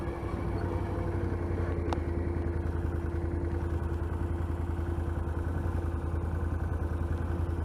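A quad bike engine idles steadily nearby, a continuous low rumble with an even throb and no speech over it.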